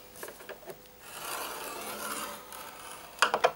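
Cardstock scored on a scoring board at close range: a soft scraping draw of the stylus along the paper, framed by light taps and handling sounds.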